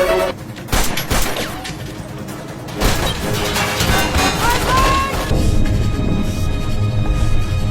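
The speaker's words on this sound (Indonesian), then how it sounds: "Situasi semakin rumit ketika Javed terkena tembakan." A burst of rapid gunfire in the film Escape Plan (2013), loud and close, with crackling shots and booming impacts that continue in a dense, chaotic barrage.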